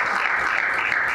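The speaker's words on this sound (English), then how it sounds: "Clap for her" An audience at a business empowerment event claps for a woman, loud dense applause held evenly throughout without a break.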